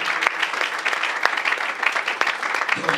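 A church congregation applauds during worship, a steady dense wash of clapping with a few sharper claps standing out, continuous and fairly loud for the whole stretch.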